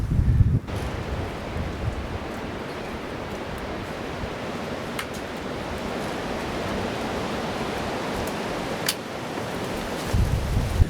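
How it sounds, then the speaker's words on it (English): Wind roars steadily across an exposed mountain campsite during a thunderstorm on a backpacking trip, a loud broadband rush with slight gusting swells and buffeting against the microphone. "I'm sure you guys can hear the wind up here"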